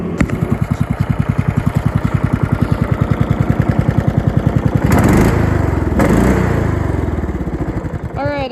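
An old MTD Yard Machines riding mower engine running close by, a loud, rapid, steady chugging putter that rises into a rougher roar midway.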